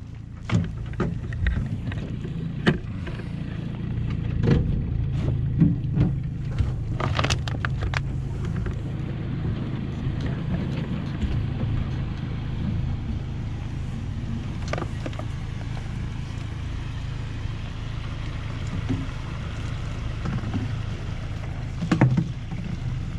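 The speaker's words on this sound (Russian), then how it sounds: "браконьеры заводят свою лодку" A motorboat engine starting on the Dniester River rumbles at a low steady drone across open air, with occasional knocks and wind buffeting the microphone.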